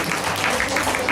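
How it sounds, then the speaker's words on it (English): Brief audience clapping for children at a school show, a dense, even patter of many hands heard for about a second. "Please give them a big round of applause."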